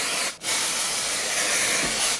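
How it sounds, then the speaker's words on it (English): Texturizing hair spray hisses out of an aerosol can onto hair in a loud, steady, close burst, breaking off briefly near the start before continuing as one long spray. "I'm just gonna spray some of this pretty much everywhere"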